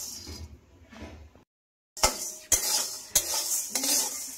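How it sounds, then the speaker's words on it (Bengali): Urad dal (biulir dal) dry-roasting in a dry pan over a low gas flame, stirred with a metal utensil. After a brief silence, sharp scraping strokes come in a quick series, close and fairly loud. "গ্যাসের ফ্লেমটা একদম লোতে রেখে ডালটা আমি সমানে নাড়াচাড়া করে নিচ্ছি।"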